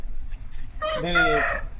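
A rooster, a large 16-month-old fighting cock weighing about 4 kg, crows once loud and close, a drawn-out harmonic call rising after a short stretch of low background noise.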